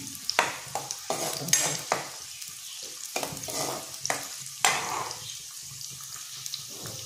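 Chopped onion sizzles in hot oil in a pan, with repeated spatula strokes scraping and stirring through it at an uneven rhythm, close and fairly loud, no talking.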